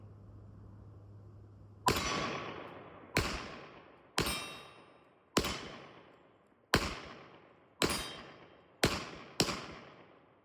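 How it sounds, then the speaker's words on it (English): A 1911 pistol fires eight shots outdoors. The loud, sharp reports come at irregular one-second gaps and each trails off in a brief echo. "Yep, 8 shots right there"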